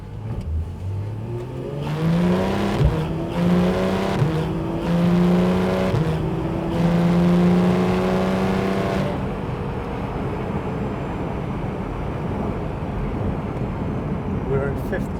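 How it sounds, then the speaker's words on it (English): A sports car with its sports exhaust switched on revs up through rising sweeps of engine note, loud and close, then settles to a steady cruising hum; a voice talks over part of it. "I just would like to switch on the sports exhaust, hear some good sound"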